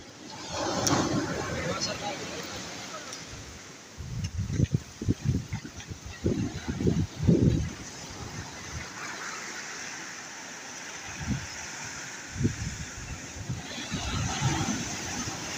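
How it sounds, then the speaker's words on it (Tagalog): Big ocean waves roll and wash along a shore in a broad, rushing surge mixed with wind buffeting, louder bursts rising midway, while voices speak briefly over the surf. "Lalaking alon kasi."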